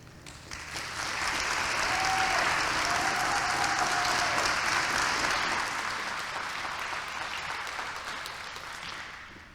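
A crowd applauds to welcome the Junior Miss onto the stage at the Muscogee (Creek) Nation Scholarship Pageant, a steady, dense round of clapping that swells and holds for several seconds, with a faint whistle-like tone briefly heard early on.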